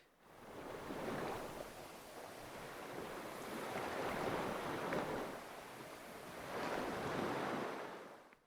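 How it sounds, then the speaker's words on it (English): Water sloshing and surging in waves far below a cliff in Dark Souls, a steady rushing wash that swells and recedes in slow broad surges, with no voices. "The fact that you can hear the water sloshing down there, that's not a very common sound in Dark Souls at all."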